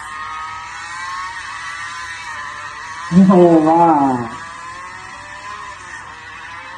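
A Group B rally car engine revs hard in a short, rising and falling burst of roughly one second against a quieter background, followed by a brief spoken exclamation.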